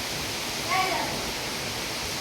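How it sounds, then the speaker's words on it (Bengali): Strong wind from Cyclone Remal in Pabna, Bangladesh, a steady, unbroken roar of rushing air filling the whole stretch, with a brief faint voice-like sound early on. "দেখেন কি পরিমাণ ঝড় শুরু হয়েছে"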